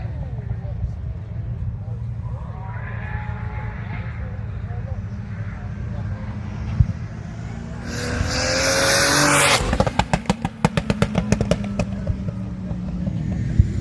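Drift cars at Castle Combe, a 1000bhp chase car closing on a Nissan 350Z, engines droning steadily and then surging louder near the end with rapid revving bursts and tyre noise, over a constant background of commentary.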